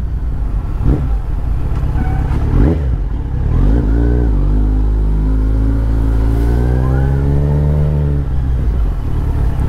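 A Kawasaki Z900 motorcycle rides slowly past up close, its engine loud and rumbling as the revs climb and fall in smooth, sweeping pitch changes, sustained throughout with no other sounds above it.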